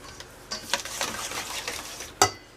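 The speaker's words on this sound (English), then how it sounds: "take a whisk and mix this together before we add our sugar" A whisk beats a pumpkin bread batter of eggs in a bowl, producing quick, irregular clinks and scrapes of metal on the bowl, ending with one sharper knock.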